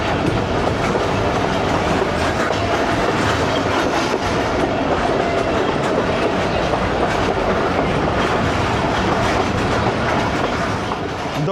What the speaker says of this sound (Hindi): यहाँ पे ट्रेन की स्पीड तो स्लो है, लेकिन नज़ारे बहुत ज़बरदस्त हैं